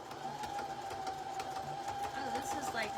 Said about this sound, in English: Oh, it's like moving the sewing machine all over the place.